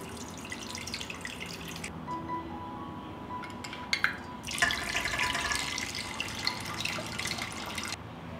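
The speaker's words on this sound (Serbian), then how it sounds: "vodu iz tegle presipam u šerpu" Water is poured from a jar into a cooking pot, a soft trickling and splashing stream with faint glassy clinks, swelling louder toward the end; close and without talk.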